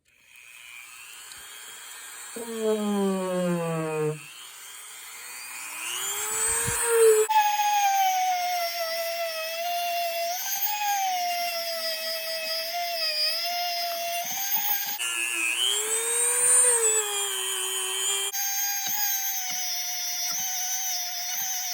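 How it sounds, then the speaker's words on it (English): A Dremel rotary tool grinds nephrite jade from Idaho with a high, whining buzz whose pitch rises and dips as it bites into the stone, running continuously and fairly close with brief breaks and pitch shifts. "we're just going to go ahead and do some Dremel time"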